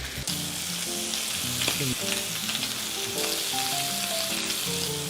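Thick lamb steaks frying in an oiled pan, a loud, dense and continuous sizzle close up, with a few brief scrapes and knocks and no voices.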